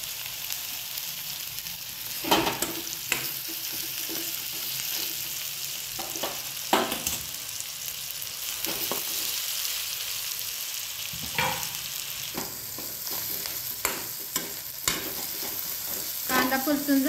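Finely chopped onion sizzles and sautés in a pan with a steady frying hiss, punctuated by occasional scraping and stirring clacks of a spoon, close and alone without talk.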